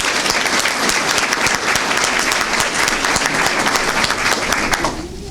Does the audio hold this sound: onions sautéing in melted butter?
no